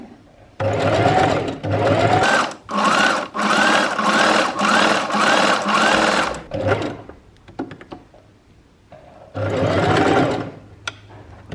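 A sewing machine runs in a long stitching burst broken by short pauses, then a few back stitches and another burst, loud and close with no talking.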